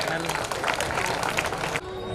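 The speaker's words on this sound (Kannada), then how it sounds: "ಜೋರಾದ ಚಪ್ಪಾಳೆ ಮೂಲಕ ಸ್ವಾಗತವನ್ನು ಕೋರಬೇಕು ಆತ್ಮೀಯರೇ" A crowd at a youth association's silver jubilee celebration in Pattanasharagu applauds a guest, a dense, loud burst of clapping that fills about two seconds before cutting off abruptly, with voices mixed in.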